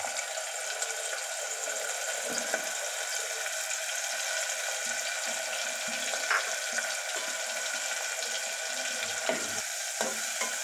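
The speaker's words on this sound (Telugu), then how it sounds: "ఆయిల్ కాగిన తర్వాత ఇందులో ఉల్లిపాయ ముక్కలు యాడ్ చేసుకుందాం" Onion pieces frying in hot oil for a tomato mutton curry, a steady broadband sizzle and crackle running throughout with a few brief clinks, moderately loud and with no voices.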